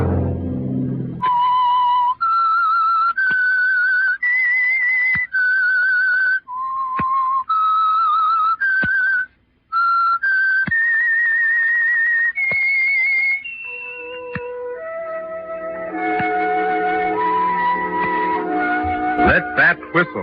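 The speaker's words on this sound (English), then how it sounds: "Let that whistle be your signal for the Whistler." A melodic whistled tune, clear and loud, a series of sustained whistled notes stepping up and down, ending in a busier flourish of notes.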